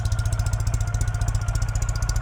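A nearly new 2013 Ural Gear Up sidecar motorcycle with only 200 miles idles close by, a loud, steady low thumping pulse with fast regular beats and a faint mechanical clatter on top.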